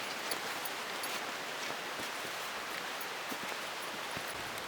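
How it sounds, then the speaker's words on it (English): Steady rain falling in the Great Smoky Mountains, an even, dense hiss of drops with scattered individual patters, continuous and fairly soft, with no voices. "it started raining"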